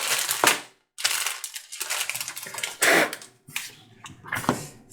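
Close crinkling and rustling of plastic LEGO Technic parts bags being handled and set down, in irregular loud bursts with short silent gaps between them.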